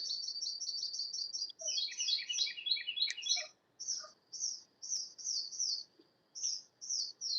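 High, rapid bird chirping and trilling in a bird sanctuary garden, repeated bursts of twittering song fairly close over a soft outdoor background.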